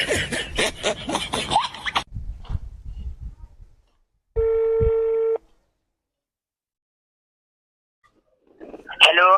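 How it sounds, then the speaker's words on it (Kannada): A single steady electronic phone tone sounds for about a second, set between stretches of talk and a short high-pitched voice at the end. "ಅವ್ರ ಮನೆಯವ್ರಿಗೆ ಫೋನ್ ಹಚ್ತೀನಿ"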